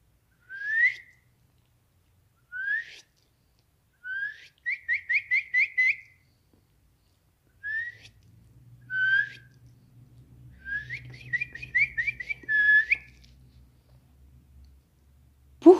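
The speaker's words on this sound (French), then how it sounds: "Guérigui, la grive, modulait la première chanson du jour" A song thrush sings at dawn in short, clear whistled phrases, some of them quick repeated trills, spaced apart by pauses and heard alone against a faint low background rumble.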